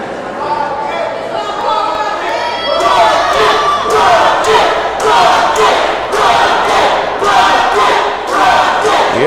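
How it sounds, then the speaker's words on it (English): Loud arena crowd at a wrestling show chanting for the wrestler Rocket, rhythmic chant swelling after a few seconds and holding steady, with a commentator's voice underneath. "pretty resounding chants for Rocket"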